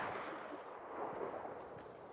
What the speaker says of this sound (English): Did someone just shoot at me?